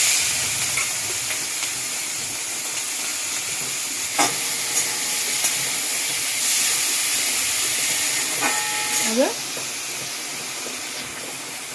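Prawns fry in a pan, giving a continuous steady sizzle and hiss with a few scrapes and clinks of stirring, close and even throughout.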